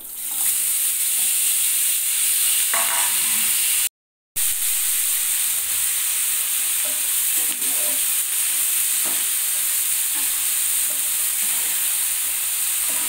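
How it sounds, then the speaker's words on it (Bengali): Chopped potatoes and onions frying in mustard oil for a crab dish, a loud continuous sizzle and hiss that carries steadily throughout apart from one brief cut-out, with occasional soft stirring scrapes. "কেটে রাখা আলু এবং পেঁয়াজ কুচিও তেলের মধ্যে দিয়ে দিতে হবে ভাজার জন্য"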